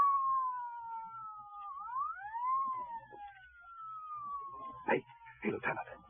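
A police siren wails in rising and falling sweeps for several seconds inside a radio drama, fairly clear against a quiet background, followed by a few short knocks or footsteps near the end.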